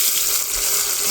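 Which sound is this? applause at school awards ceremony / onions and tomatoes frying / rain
onions and tomatoes frying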